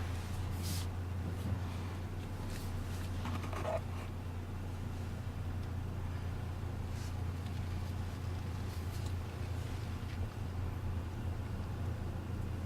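A 2014 Chevy Impala on a test drive gives a steady low engine and road drone throughout, with soft tyre rumble and faint interior noises over the constant hum.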